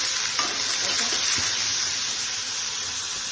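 Onion with ginger, garlic and green chili paste frying in hot oil gives a loud, steady, close sizzle with a few soft stirring scrapes, and no voices.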